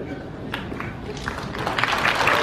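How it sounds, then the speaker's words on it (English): Convention panel audience at a Supernatural fan event applauding and cheering, a steady crowd wash that swells louder toward the end, with scattered claps and whoops throughout. "Yeah, you can cheer."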